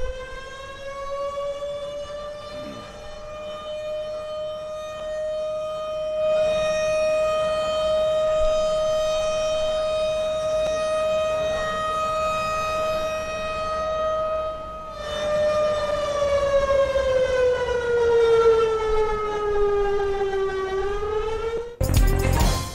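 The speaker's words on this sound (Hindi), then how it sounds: "इस्लामाबाद में सायरन बजाकर 1 मिनट की खामोशी इख्तियार की गई।" A civil defense siren in Islamabad sounds a long, steady wail marking a minute of silence, rising and falling slightly, loud and carrying, with no voices over it.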